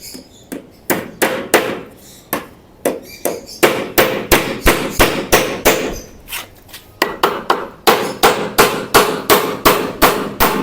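A hammer drives nails into wood while a table is being built. Loud, sharp strikes come in quick bursts with short pauses between them, and no talking is heard.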